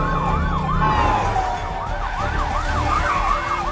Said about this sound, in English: Late at night through the streets of Chicago to the hospital rushes a police car.